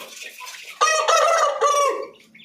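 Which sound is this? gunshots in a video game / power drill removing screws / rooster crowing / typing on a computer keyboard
rooster crowing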